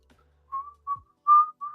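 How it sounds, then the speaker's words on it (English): Whistled melody from a video played back in a room: four short, clear whistled notes in a steady rhythm, the last two louder and more sustained, heard alone with no talking. "So you can hear that damn whistle part again."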